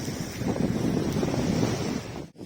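Loud, steady wind buffeting the microphone with a low rumbling roar at a mountain campsite tower, cutting out abruptly near the end.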